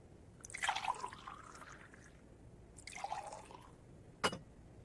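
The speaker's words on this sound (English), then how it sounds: "No, let me pour you a cup." Tea is poured into a cup in a few quiet, trickling bursts, ending with a soft clink, faint and close with no talking.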